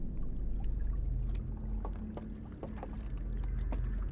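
Water sloshes and wood creaks in the game Outer Wilds, a continuous watery wash with scattered small knocks and creaks, like a boat moving, heard at moderate volume with no one speaking.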